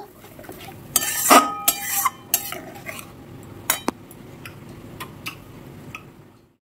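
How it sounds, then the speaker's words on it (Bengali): Spice masala for a pointed gourd gravy is stirred in a pan, with a few sharp metallic clinks and taps of a spoon against the pan fading to quiet, no talking. "দিয়ে আবারও একটু মশলা কষে নেব"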